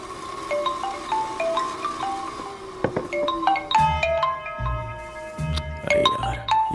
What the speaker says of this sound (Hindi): ये अभी क्यों फोन लगा रहा है?